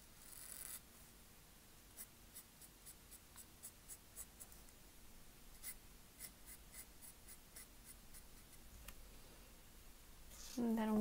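Pointed pen scratching across paper while flourishing a pine leaf for a Christmas garland, a light rhythmic series of short nib strokes with pauses, close and quiet, a brief rustle as the paper is turned near the end.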